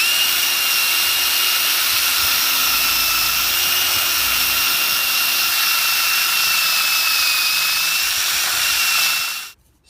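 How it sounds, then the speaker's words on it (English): Power drill boring pilot holes with a 5/16 bit into a treehouse platform frame, one steady high whine held for about ten seconds before cutting off abruptly. "Go ahead and start to drill there."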